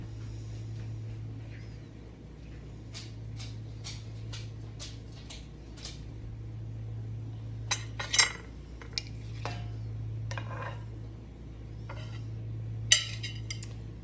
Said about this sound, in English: So let's cut a slice and taste it.